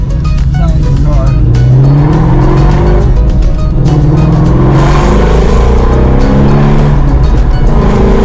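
High-revving classic car engine with a European-style sound that red-lines at 9,000 rpm, loud and close, rising and falling through several revs while someone talks over it.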